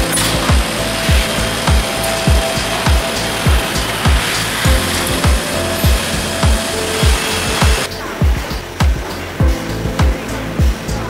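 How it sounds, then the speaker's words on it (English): A CNC lathe turns and cuts a metal workpiece, a continuous loud machine whine with regular rhythmic thumps about twice a second throughout. "See the metal being chipped away and the workpiece gradually processed."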